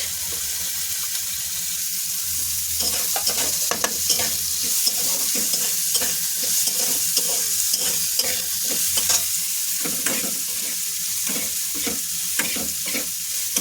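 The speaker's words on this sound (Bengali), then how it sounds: "এদিকে পেঁয়াজ রসুন ভাজা হয়ে গেছে" Onions and garlic frying in a pan, a steady close sizzle broken by rhythmic scraping and stirring strokes throughout, fairly loud and with no one talking.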